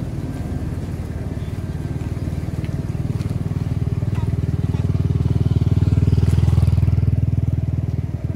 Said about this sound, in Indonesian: saya jamin cuma butuh waktu 3 bulan, lintasan ini akan rusak akibat dilintasi oleh motor